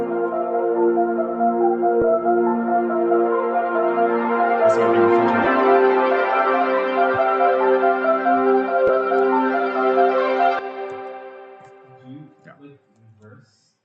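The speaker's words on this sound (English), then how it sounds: "instead of just using the loop as it is, I'm like chopping it up further" A chopped electronic pad chord loop, with a sustained, layered chord sliced into repeating segments under a steady pulse, building tension for about ten seconds before cutting off into sparse, faint trailing fragments.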